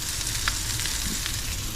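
Pancake batter frying in a pan on an electric stove set near low, a steady close sizzle with faint crackles throughout and no talking.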